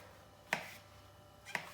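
Two crisp knife cuts through mushrooms, about a second apart, each a short sharp slice through something soft, close and otherwise quiet.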